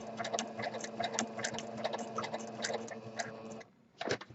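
A sewing machine doing free motion stitching around a bird design, running in a fast, steady stream of light ticking stitches at close range, then stopping briefly before a short final burst.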